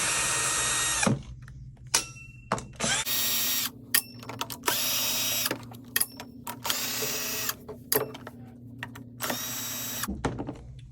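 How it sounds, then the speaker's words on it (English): Screws being undone with a Phillips head screwdriver from the bottom cover of a Juki TL sewing machine, a series of short mechanical whirring and ratcheting bursts separated by pauses, close and clear with no speech. "grab a Phillips head screwdriver, and undo 6 screws"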